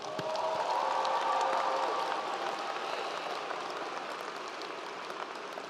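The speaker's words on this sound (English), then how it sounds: "So give yourself a round of applause." Graduates and guests at a commencement ceremony applaud themselves, a steady wash of clapping from a large crowd with light cheering, sustained throughout at moderate volume.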